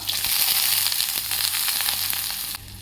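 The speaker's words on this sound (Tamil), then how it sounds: "வந்து நல்லெண்ணெய் ஊற்றுறணுங்க. சோம்பு தாளிச்சிக்கலாங்க. பெரிய வெங்காயம்," Fennel seeds and onion sizzle in hot sesame oil, a steady close, loud crackling fry holding through nearly three seconds before easing slightly at the end.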